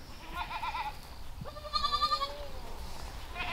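Kiko goats on a farm bleat several times at close range, with a wavering cry followed by a louder, longer call over a steady background.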